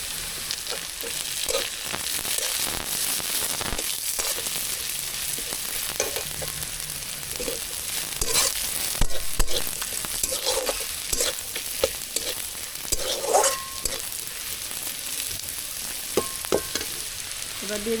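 Onions sizzling in a hot pan with slit green chilies added, a constant frying hiss punctuated by repeated stirring scrapes and occasional spatters, close up and without speech.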